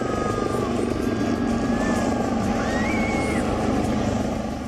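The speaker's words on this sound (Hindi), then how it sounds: "इस कार्यक्रम में AN-32 और Mi-17 V5 हेलीकॉप्टर ने भी हिस्सा लिया।" An AN-32 transport aircraft and Mi-17 V5 helicopters fly at an Indian Air Force air show, giving a steady, loud rotor and engine drone with a rising whine, continuous throughout.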